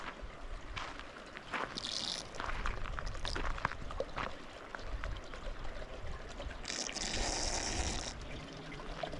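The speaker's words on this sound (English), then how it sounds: "Got a little water running down here." A small stream trickles through a mountain meadow in Lassen, a faint steady water rush with soft splashy bursts, heard outdoors with light wind.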